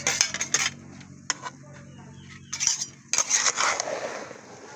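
Pancit bihon noodles stirred in a pan with metal utensils, bursts of sharp clanks and scrapes against the pan separated by short pauses, close and moderately loud.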